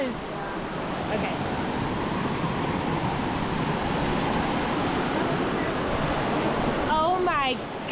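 Close, continuous roar of a 155-foot Idaho waterfall pours steadily throughout, a thick broadband rush, with a voice cutting in briefly near the end.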